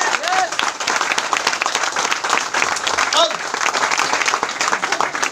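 Energetic clapping from an audience at a company gathering, dense and continuous with a few voices and whoops mixed into the applause throughout.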